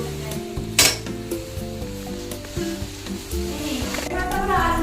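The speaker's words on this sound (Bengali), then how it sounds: "গোল্ডেন ব্রাউন করে একদম লাল লাল করে ভেজে নেব" Palm fritters deep frying in hot oil, a strong continuous sizzle with spoon scrapes and metal clinks against the pan, close and lively.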